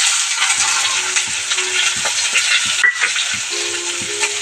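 Medium-sized chopped onions sizzling in hot oil with cumin seeds, a loud steady hiss dotted with soft stirring knocks and a few faint clinks.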